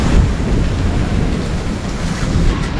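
Storm wind roars steadily in a village, a loud broadband rush with gusty swells and no voices.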